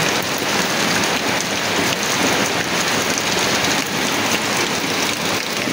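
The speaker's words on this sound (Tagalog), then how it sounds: "Lakas-lakas talaga ng ulan mga guys." Heavy typhoon rain pouring down steadily, a dense loud roar of drops hammering on surfaces with no pauses, continuous throughout.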